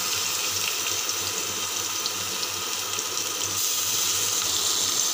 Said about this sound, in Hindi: हम इसे ब्राउन होने तक पलट के भी फ्राई करेंगे।